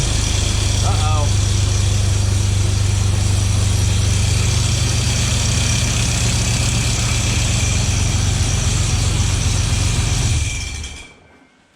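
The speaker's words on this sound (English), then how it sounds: "that's my first time starting it after putting this new radiator in" A Toyota Xtracab truck engine idles steadily after a new radiator install, with a constant low rumble close by until it cuts off near the end; a brief voice is heard early on.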